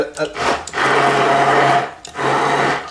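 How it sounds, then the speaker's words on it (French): An immersion blender whirring as it emulsifies a seasoned sauce for fried poultry fillets, two loud close bursts of motor whine, the first longer, separated by a brief pause. "avec le mixeur plongeant, c'est que ça émulsionne vachement bien"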